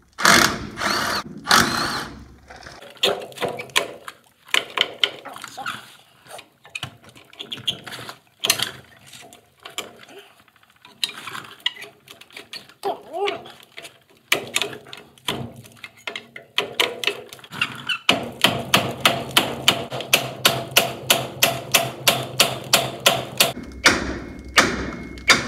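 Tools working on a truck's rear brake caliper, whose rotor has a reddish heat-worn look: scattered metallic clanks and thumps, then a fast loud run of ratcheting clicks near the end, close and with no voices.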